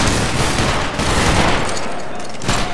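A musket line volley in Battlegrounds 3 during a multi-clan linebattle event: a dense, rolling crackle of many muskets firing together fills the whole moment, loud and sustained, with faint voices underneath.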